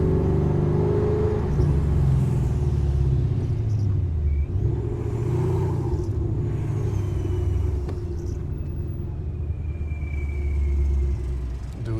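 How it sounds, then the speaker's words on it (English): A boosted Ford Mustang GT driving along, with a steady low engine rumble and a faint rising supercharger-style whistle running over it, continuous and close throughout. "this whistle next to other cars is crazy"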